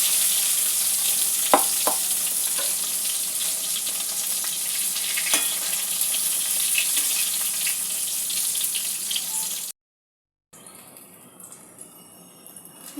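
Brinjal slices fry in hot oil in a wok for a coconut brinjal curry, a steady close sizzle with a few sharp clinks, cutting out briefly near the end before the crackle resumes.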